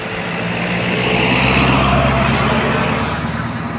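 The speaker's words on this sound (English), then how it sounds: "Here comes another truck." A heavy vehicle rumbles past on a road, a loud steady low engine drone swelling and easing over a few seconds with traffic noise around it.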